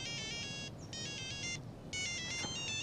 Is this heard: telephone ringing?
yes